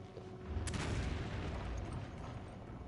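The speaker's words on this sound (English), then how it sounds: "Throw a grenade down there." A grenade goes off in Resident Evil 5: a single loud, close boom that rolls into a dense rumbling tail lasting a couple of seconds.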